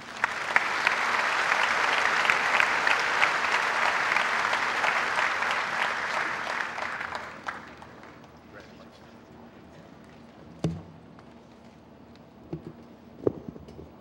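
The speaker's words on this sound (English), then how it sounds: "please join me in honoring him with a round of applause" A high school graduation crowd applauds the valedictorian with a loud, dense round of clapping that lasts about seven seconds, then dies away into a quiet room broken by a few scattered knocks.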